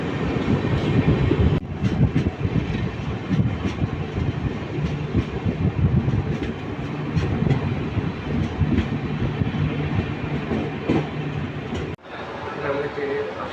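The New Jalpaiguri–Alipurduar Tourist Express runs with a continuous loud rumble and rattling of railway carriages heard from on board, steady throughout with a brief drop near the end, with no clear speech.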